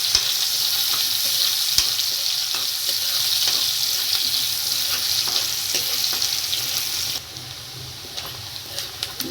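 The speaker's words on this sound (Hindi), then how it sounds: "प्याज को थोड़ा फ्राई करेंगे अच्छे से" Finely chopped onion fries in a pan for a Rajasthani-style potato mangodi curry, a loud continuous sizzle with occasional stirring scrapes, easing slightly toward the end.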